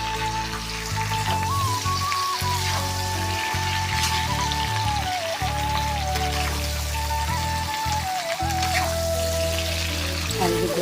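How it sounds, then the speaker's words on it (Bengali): Mango pieces for Bengali pickle deep-frying in oil, a steady dense sizzle and crackle like rain spatter running throughout with a faint low hum underneath. "আমগুলোকে আগে তেলে ছেঁকে ভেজে নিচ্ছি"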